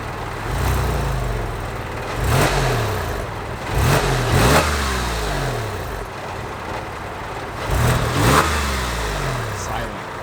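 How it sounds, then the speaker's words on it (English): A Porsche 996 engine with a muffler bypass revs in several sharp bursts that rise and fall from a steady idle, close by, while people talk over it. "Give it a quick rev."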